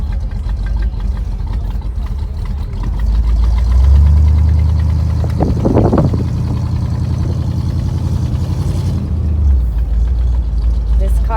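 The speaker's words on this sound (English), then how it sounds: "it sounds like a beast going down the road" A 1984 Chevrolet El Camino SS rumbles along the road, its deep engine note swelling as it pulls and then settling, heard from inside the cab with a person talking over the steady drone.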